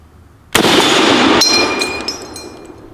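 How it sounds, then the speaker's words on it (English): An M1 Garand rifle fires one loud, sharp shot outdoors. A broad blast rings for about a second, then a bright metallic ping follows and fades away, with no voices. "Of course, the classic ping sound."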